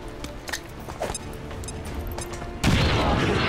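A grenade blows up in the video game XCOM. Scattered thuds and clicks come first, then a loud, sustained blast that carries on to the end.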